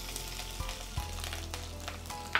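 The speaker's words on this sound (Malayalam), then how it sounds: "മീൻസ് ഒന്ന് ഇളക്കിയിടാം, അല്ലെങ്കിൽ ഇനി പൊട്ടിത്തെറിക്കും" Whole spices including cardamom sizzle in hot oil in a pan for a beef kurma, a steady close frying hiss broken by a few soft stirring scrapes and one sharp pop near the end.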